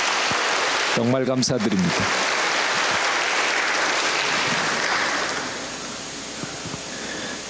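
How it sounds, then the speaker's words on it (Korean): A church congregation at a 2018 camp meeting gives a long round of applause, a thick wash of clapping that a voice briefly cuts through before it fades and tapers off. "우리 뜨거운 박수로 한번 격려해 주시면 감사하겠습니다"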